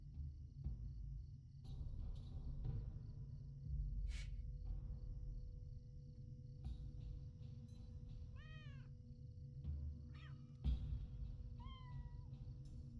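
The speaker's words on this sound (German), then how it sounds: "Aber die Katze jammert immer noch. Das ist echt ein Soundfehler." A cat in the video game Lord of the Rings Online meows several times, a glitching sound, in short rising-falling cries over a steady chirping of crickets and a low background hum.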